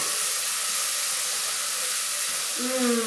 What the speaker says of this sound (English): So we're adding a cup of onions, and we're going to saute those until they are translucent